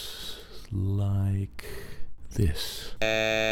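A brief buzzy, droning allophone from an 80s-style speech synthesizer built in an FPGA plays at the end, after someone speaks briefly.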